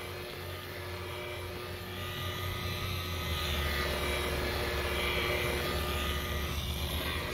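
Electric polisher with a buffing pad working rubbing compound into oxidized gelcoat on an older boat, a continuous low droning hum that grows slightly louder midway, steady and close with no talk.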